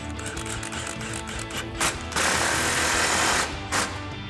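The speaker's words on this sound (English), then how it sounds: "Grab our impact 13mm socket," An impact wrench with a 13mm socket tightens an exhaust clamp on a Silverado 1500 fitted with a Magnaflow exhaust. It fires a short rattling burst, then a longer loud hammering run and another brief burst, over a steady mechanical background.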